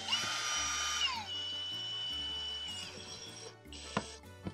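A power drill whines at rising and falling pitch in short bursts, driving a larger screw into a rusted metal roof, with a sharp metallic clank near the end.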